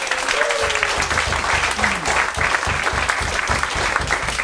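Sustained applause from an audience at an end-of-year special, a loud, even wash of clapping that fills the whole stretch with a voice briefly heard near the start.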